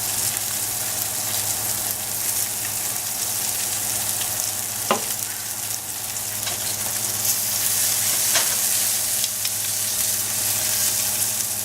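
Lamb chops sizzling in a hot pan, a loud steady crackling fry with occasional sharp pops and spatters, continuous and close.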